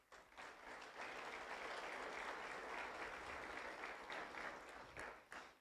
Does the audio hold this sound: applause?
yes